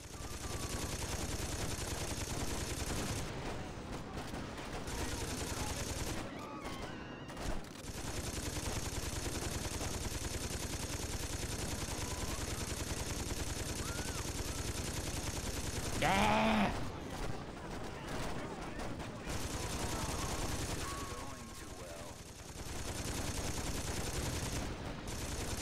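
Sustained video game gunfire in Saints Row 2, a dense continuous rattle of shots through most of the stretch with a few brief breaks, loud and up close with no talking.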